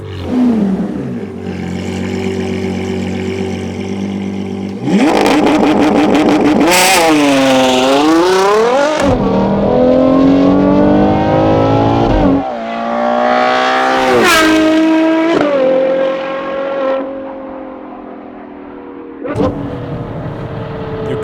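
A Novitec-modified Ferrari Purosangue V12 engine screams through several rising and falling rev sweeps, loud and close, with sharp blips and a roaring climb before settling.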